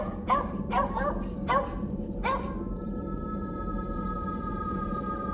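A small dog fighting a snake lets out a quick series of four or five sharp, close yips and barks, followed by a steady background tone.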